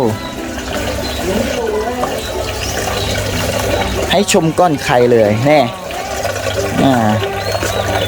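Water flows and trickles through a hydroponic salad-vegetable bed outdoors, a steady wash heard under lively talk, with birds calling nearby.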